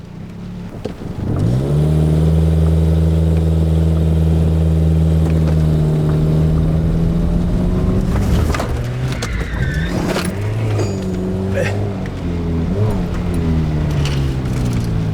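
A Toyota car engine running on vodka-added fuel revs hard and holds a steady high drone for several seconds, then drops and wavers through uneven revs, loud and close.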